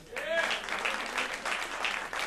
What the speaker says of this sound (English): I just want to make sure we give Al a round of applause